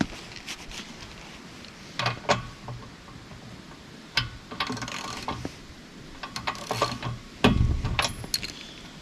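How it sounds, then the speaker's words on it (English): Ratchet wrench loosening spark plugs from an engine, with intermittent bursts of clicking ratchet strokes and metallic tool handling at close range, no talking. "But we gotta take off the spark plugs here."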